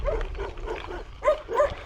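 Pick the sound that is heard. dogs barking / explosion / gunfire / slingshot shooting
dogs barking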